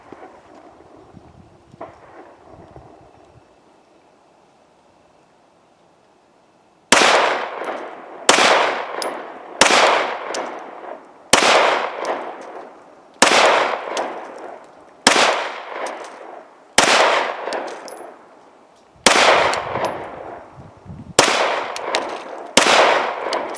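Canik TP9 Elite Combat pistol fired at a stick about 12 to 15 yards away outdoors: after several seconds of quiet breeze, ten loud, sharp shots ring out in a steady, fairly even rhythm, each with a short echoing decay.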